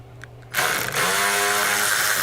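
A power tool spins up loud and steady on a bolt on a Honda, starting abruptly after a brief quiet lead-in and then running continuously at full speed without a break.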